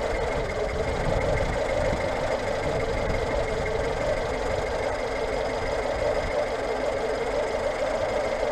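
A Citroën GSA 1300 flat-four engine idles with a slightly lean setting, giving a steady, close and even running note with a faint knocking pulse that holds throughout, and no voices are heard.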